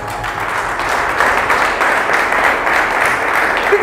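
A church congregation claps and cheers for the Lord, a dense, steady wash of applause that keeps a constant level from start to finish, with faint voices mixed in.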